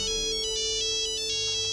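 A mobile phone ringtone plays loudly and close, a bright repeating electronic melody with a steady sustained tone beneath it, sounding alone without talk.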